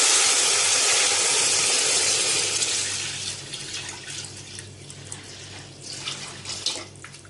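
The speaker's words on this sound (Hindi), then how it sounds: "अब इसके अंदर मैं पानी डाल दूंगी।" Water pours steadily into a cooking pot for biryani with a loud hiss at first, then thins to a softer, splashing trickle.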